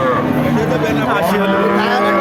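A cow lows at a busy cattle market where milk cows are sold with their calves, giving one loud, drawn-out moo close by.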